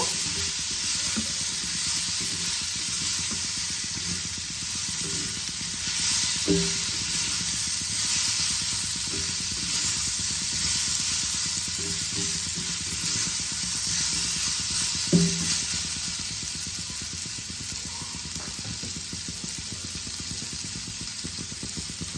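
Homemade amla pickle sizzles steadily in a pan, a soft continuous hiss with a few faint scrapes and knocks from stirring, heard close and without any talking.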